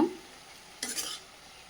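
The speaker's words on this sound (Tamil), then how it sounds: "சால்ட் ஆட் பண்ணிவிட்டு நல்லா கிளறி விடுங்க." One short stirring scrape sounds through a cabbage and egg stir-fry in a pan, with a soft sizzle in the background.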